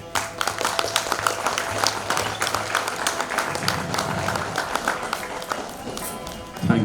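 An audience claps for a speaker at a song and speech event, making a lively run of many overlapping claps at fairly even loudness that continues for several seconds.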